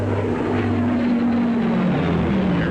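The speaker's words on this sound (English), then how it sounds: "Or the Heinkel 111K." Heinkel He 111K bomber engines in 1944 wartime footage, a continuous loud propeller drone with a steady low hum that shifts slightly in pitch, heard alone without talk.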